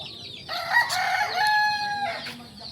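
A rooster crows once loudly and close by, a long drawn-out call with a rising start, and a brief cluck follows.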